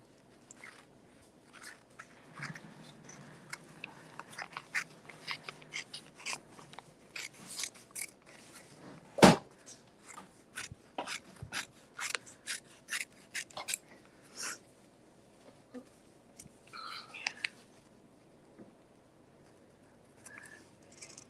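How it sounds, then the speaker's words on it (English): Scissors snipping through fabric while cutting an appliqué piece, with a run of short, close crisp cuts and rustles, one sharper snip near the middle. "now that I'm at this edge here, I'm just going to cut in like this"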